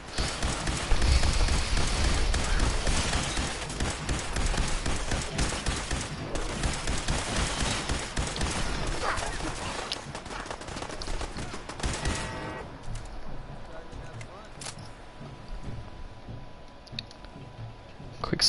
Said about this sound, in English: We're gonna just shoot the living crap out of these guys.